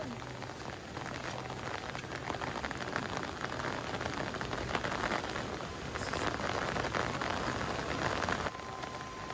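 Steady rain pours down over a village, a dense, even hiss of drops on surfaces that holds throughout, with faint voices murmuring beneath it.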